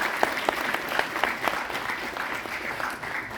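Audience applause at an evening literature event in New Delhi, steady clapping from a moderate indoor crowd that continues evenly throughout, with no voices over it.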